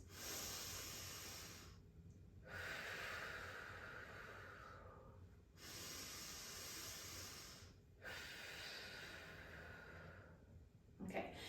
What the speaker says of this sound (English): we are gonna be breathing in through our nose and out through our mouth